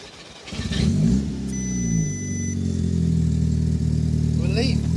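An Audi TT MK2's EA113 TFSI engine revs up and holds at a raised pitch, a steady mid-range drone with shifting tones as it settles. Voices talk over the engine throughout.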